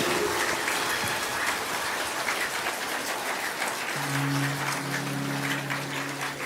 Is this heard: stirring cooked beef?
no